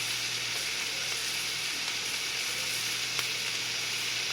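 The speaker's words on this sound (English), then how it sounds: "All right, onions are cooking down. I'm going to add in my spinach." Chopped spinach goes into a pan of onions and bacon cooking down, with a loud, steady close-up sizzle and hiss that holds evenly throughout.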